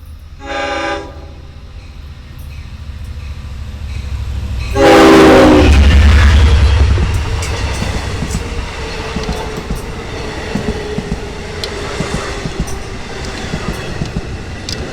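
An LIRR train on the Port Jefferson Branch, DM30AC diesel locomotive 518 on the rear, sounds its horn and rumbles loudly past close by, then fades into a long rolling clatter of railcars.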